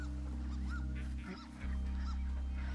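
Loud honking waterfowl calls, goose-like and repeated several times, ring out in the Firewatch video game over a steady low hum and buzz. The hum dips briefly midway.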